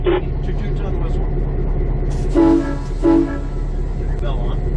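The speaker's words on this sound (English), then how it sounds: "Two toots on the whistle." A train whistle gives two distinct toots, close and loud, over a steady rumbling engine, with people talking in the cab.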